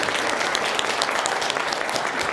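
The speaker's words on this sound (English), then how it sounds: "Can we give them some huge applause?" A crowd applauds loudly and continuously, a dense wash of clapping throughout.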